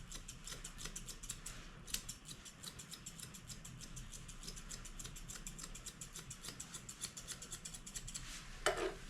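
Grooming scissors snip rapidly and steadily through a Moodle dog's fur in quick metallic clicks, close up and fairly quiet, with no talking.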